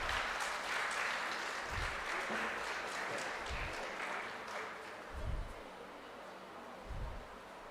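An audience at a dental conference felicitation applauds with a continuous soft patter of many hands, heard from a distance, with occasional low thumps from handling.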